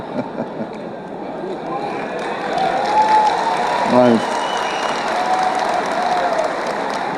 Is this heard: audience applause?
yes